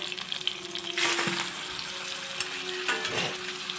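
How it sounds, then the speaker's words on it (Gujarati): Ginger, chili and garlic paste sautéing in a hot pan, a steady close sizzle with two louder bursts of crackle and stirring partway through. "એને આપણે સાતળી લેશું એને હું ગોલ્ડન બ્રાઉન સુધી હું સાતળી લઈશ"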